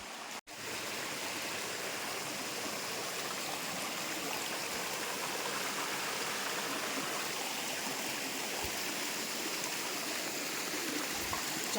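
Water rushes continuously at Chaulbhaja waterfall and its stream, a dense, steady roar with no break, after one brief knock at the very start.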